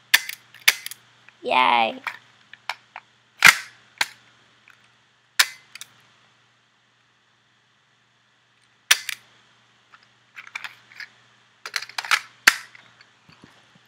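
Pistol shots in the horror video game DreadOut, a series of sharp single cracks scattered across the stretch with silent gaps between, and a brief voice exclaiming in the middle.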